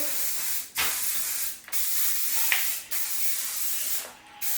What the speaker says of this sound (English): let me spray my hair